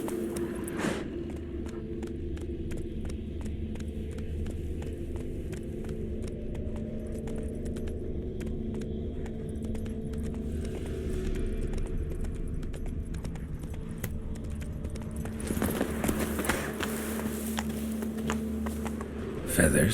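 Hooves of Geralt's horse Roach running in The Witcher 3, a steady stream of clip-clop beats under game music, with a brief burst of louder clatter near the end.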